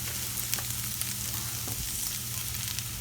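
Spinach tipped into a pan of onions and mushroom stems already sautéing until tender for stuffed mushrooms, giving a steady, close sizzle and crackle with a few soft stirring bumps.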